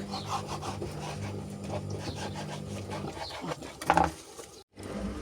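A small knife cuts meat at an outdoor picnic breakfast in rhythmic, rasping back-and-forth strokes, close and fairly loud, ending in a brief pause with no talking.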